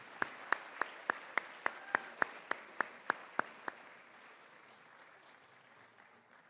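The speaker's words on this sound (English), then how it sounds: "Join me in a round of applause for our spring all-conference athletes." Applause from a high school athletic awards audience for spring all-conference athletes: a dozen evenly spaced sharp claps in a steady rhythm over faint crowd clapping, stopping after about four seconds and leaving a quiet room.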